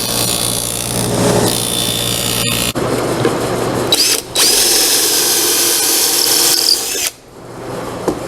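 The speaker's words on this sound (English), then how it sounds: "Putting the bottoms on using pocket screws and glue." A power drill drives pocket screws into the bottom of a wooden computer desk hutch, a loud steady whir in long continuous runs with brief pauses and a pitch change partway through.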